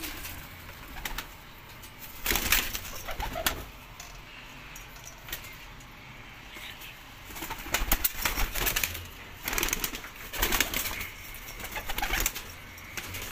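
Pigeons offered for sale coo softly in the background while bursts of wing flapping break out repeatedly, close by, with no talk.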